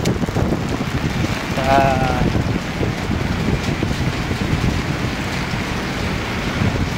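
Rain and strong wind outdoors in the Philippines form a constant loud roar of gusts and falling water buffeting the microphone, with a faint brief voice in the background.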